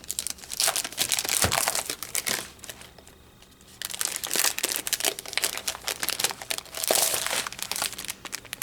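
Plastic and paper packaging of a HunkyDory craft kit crinkled and torn open close up, loud rustling bursts with a short quieter pause midway before the crumpling resumes, and no talking.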